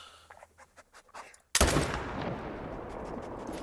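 Sharp, loud single rifle shot in theHunter: Call of the Wild, a sudden blast midway after a quieter stretch, followed by a long rumbling echo across hills and valleys.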